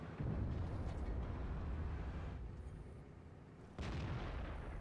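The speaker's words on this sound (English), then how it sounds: "what happens when you shoot an anti-aircraft gun at tanks?" Heavy anti-aircraft gun on an E-100 tank chassis firing at tanks in World of Tanks, booming blasts over a dense rumbling battle bed, with a sharp new burst near the end.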